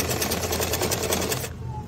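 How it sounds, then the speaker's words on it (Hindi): A sewing machine stitches cloth in a rapid, even whir of needle strokes, close and steady, cutting off abruptly about three quarters of the way through. "तो यहाँ पर मैं दूसरी साइड भी मैं वैसे ही सिलाई लगा दूंगी"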